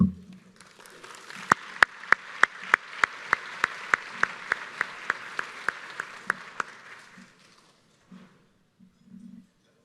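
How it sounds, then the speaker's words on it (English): At a county awards ceremony, an audience applauds the award recipients. A soft wash of clapping carries sharp, evenly spaced claps from one nearby pair of hands, then fades out to near quiet with faint murmurs. "Nice round of applause again for everybody."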